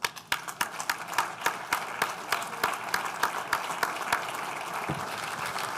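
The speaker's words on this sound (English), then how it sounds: "We're going to give you a round of applause for that." Applause for a rugby team standing at an alumni banquet, a roomful of people clapping steadily with sharp individual claps standing out near the start, settling into an even wash of clapping.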